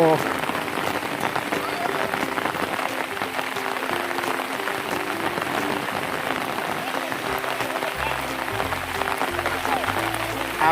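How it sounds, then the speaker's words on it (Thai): Steady rain patters down on surfaces near a waterfall at Nakhon Phanom... in a dense hiss, with a low droning hum joining near the end. "ฝนตกนะครับ"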